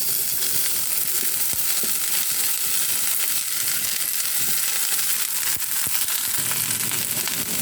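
Beans fry in a pan with chilli flakes and are stirred, giving a steady, loud, close sizzle with occasional scraping and crackling from the spoon, and no talking.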